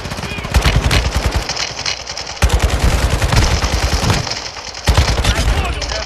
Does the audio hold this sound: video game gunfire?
yes